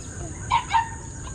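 A rooster crows in the distance, two short harmonic bursts rising above a steady background hum and outdoor noise while urban fishing in the Philippines.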